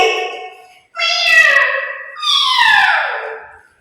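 A voice imitates a cat with three drawn-out meows, loud and close, each sliding downward in pitch.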